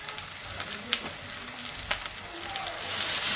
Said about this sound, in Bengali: এই যে মুরগির মাংসটা রান্নার জন্য ভেজে নিচ্ছি একটু